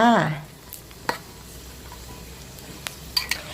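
Pork rinds frying in hot oil over medium heat on their second fry, a soft continuous sizzle with occasional light stirring clinks, after a brief voice at the start.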